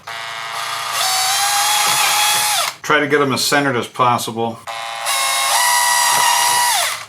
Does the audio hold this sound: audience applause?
no